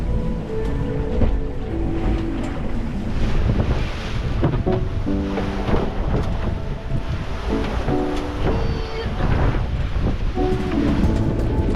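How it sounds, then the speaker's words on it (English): Wind of about 20 knots roars across the microphone while waves wash and slap around a sailboat at sea, a loud continuous rush with surging swells and faint creaking or rigging tones. "The wind built throughout the morning to a good 20 knots."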